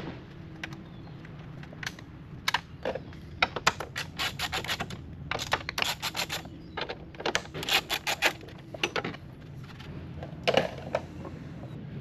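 Quick bursts of ratcheting from a 10mm socket wrench loosen bolts on a GMC Sierra 1500 grille, coming in irregular clusters of sharp clicks at close range with pauses between.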